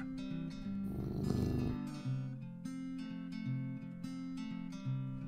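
A human voice imitates a cat's purr with a low, rolling rumble, held steadily for a few seconds, close and alone.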